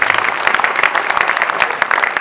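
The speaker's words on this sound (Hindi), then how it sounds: "एक बार जोरदार ताली।" An audience at a public speech in Rajakhera breaks into loud, dense applause, many hands clapping close together in a short, energetic burst.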